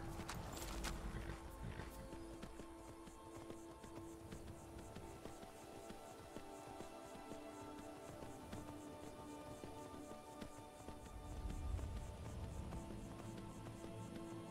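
Rhythmic clip-clop of a horse's hooves in the video game Skyrim at a steady pace over a continuous ambient hum, fairly quiet with a brief louder patch near the end.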